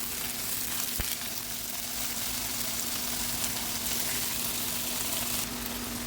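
Marinated chipotle pork chops frying in a pot over medium-high heat, giving a steady, close, continuous sizzle with a faint constant hum underneath.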